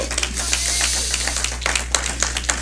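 Church congregation applauding, a dense patter of hand claps with a few sharper accents over a steady low hum, fairly loud and continuous.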